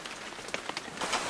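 Rain patters steadily on an umbrella at an eco lodge, a close, dense hiss of drops with a few heavier splats and a gust-like swell near the end.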